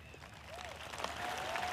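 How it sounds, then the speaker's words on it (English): Audience applause at a live celebration at Isha Yoga Center: a distant, steady wash of crowd clapping that swells slightly, with a few faint whistles. "No, don't clap your hands,"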